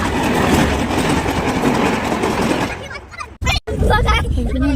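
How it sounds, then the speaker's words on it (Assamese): A train passes close by at a level crossing, a loud rumbling rush of wheels and carriages that dies away after about three seconds, followed by a brief gap and nearby talking. "ট্ৰেইন আহিছে"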